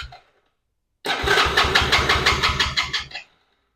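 A 110cc Chinese ATV engine with an intermittent spark fault cranks in one steady burst of about two seconds with a rhythmic whirring churn. It fails to catch and stops abruptly, leaving silence.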